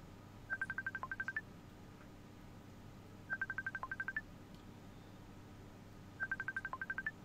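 Three bursts of rapid touch-tone dialing beeps from a phone keypad, each a quick run of about eight to ten even tones a few seconds apart, clear and alone over a faint low hum.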